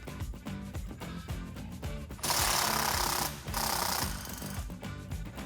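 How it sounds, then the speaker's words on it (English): A socket wrench works a brake line bracket bolt on a Jeep Wrangler JL axle, a fast rattling ratchet with rapid repeated clicks that swell into a louder burst, close by. "Using our 13mm socket, we can now disconnect the brake line bracket at the back of the axle."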